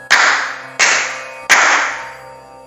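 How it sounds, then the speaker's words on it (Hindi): Three sharp hand claps during a Hindu Durga Saptashati ritual, each one crisp and close with a short ringing tail, spaced evenly about two-thirds of a second apart in otherwise quiet surroundings. "3 बार ताली बजाएंगे"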